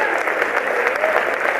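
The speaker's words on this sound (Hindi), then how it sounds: "जोरदार एक बार तालियां बजाए साहब।" Audience applause at a Hindi comedy stage show for the Agarwal community, a dense, steady wash of clapping that stays loud and even for the whole stretch, with no voices on top.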